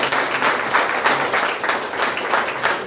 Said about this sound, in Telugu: భారత్ వికాస్ పరిషత్ పెద్దలందరూ కూడా గట్టిగా చప్పట్లు కొట్టి అభినందిస్తున్నారు